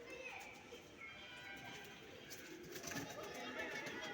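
Pigeons coo softly in the background, faint and a little distant, while a person talks over them.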